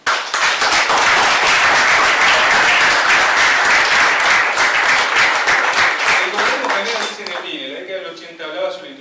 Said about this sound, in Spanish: El coronel Mohamed Ali Zineddine, para que también pida un aplauso,